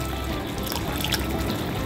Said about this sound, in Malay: lepas tu saya nak masukkan air asam jawa